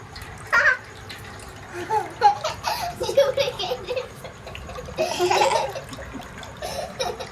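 Water pours and splashes out of a large organic coconut, a gurgling flow that comes and goes across the clip while people laugh and talk close by.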